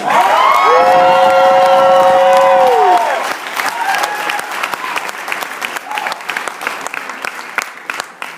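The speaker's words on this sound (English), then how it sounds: "Give him a big round of applause." An event audience in Sacramento bursts into loud applause and cheering with whoops, then the clapping thins into scattered claps while voices carry over it.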